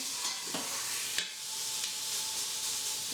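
A pot roast searing in an Instant Pot is rolled over, giving steady loud sizzling with a few scraping bumps and a sharp clack as the meat turns.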